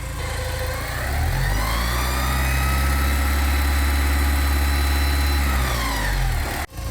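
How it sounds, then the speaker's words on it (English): A Porsche 944 engine idles steadily with a noisy belt on a warm engine, giving a constant close, loud drone with a whining tonal edge throughout, cut off abruptly just before the end. "There is something quite noisy on this belt, and like you guys say, I should really change it"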